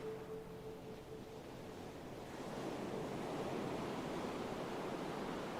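Ocean waves surging at night in a steady, low-pitched wash of surf that swells louder about halfway through and stays full, with no voices.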